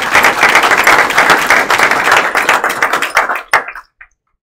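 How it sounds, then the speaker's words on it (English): An audience claps loudly and steadily for welding students at a signing day ceremony, the applause holding strong before thinning into a few scattered claps and fading out. "Give them a round of applause."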